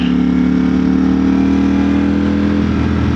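A Ducati Streetfighter V4S with an Akrapovic exhaust and full tune, its engine running close and loud in a steady deep droning idle that holds evenly throughout.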